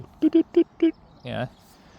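Metal detector signal: four short, low beeps in quick succession, followed by a brief murmur.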